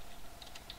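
Typing on a computer keyboard: a few faint, light key clicks over a steady background hum, close by and brief, with no talking.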